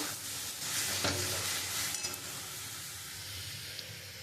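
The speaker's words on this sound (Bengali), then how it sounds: "মশলাটা দিয়ে খুব ভালো করে আমি কষিয়ে নেব" Spice paste for a spicy Bengali bhetki fish curry sizzles steadily in hot oil while being stirred, a continuous close frying hiss with soft scraping strokes and no voices.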